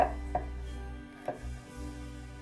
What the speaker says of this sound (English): I'm just going to chop it finely.